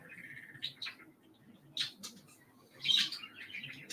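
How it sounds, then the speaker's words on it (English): Pet birds chirp and tweet indoors, quiet scattered calls with a few sharper bursts near the middle and end. "Oh, my birds are so silly. This is about their time to have a birdie attack."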